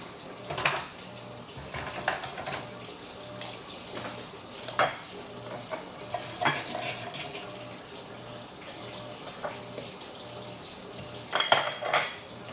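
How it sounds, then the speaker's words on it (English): Cutlery on a plate while a cooked steak is cut, slightly overcooked, served with white rice: scattered clinks and scrapes of knife and fork against the dish, fairly quiet with gaps between them. "I'm going to cut into this steak right now."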